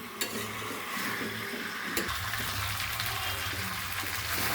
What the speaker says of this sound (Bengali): এটা আমি আরও একটু কষিয়ে নেবো